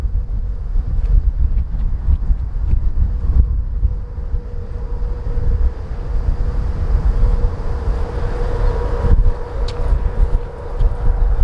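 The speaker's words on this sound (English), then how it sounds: "we got a gust of wind just as it was coming down there" Wind gusts buffet the microphone outdoors as a Fimi X8 SE drone comes down to land, a steady low rumbling roar that swells and eases throughout.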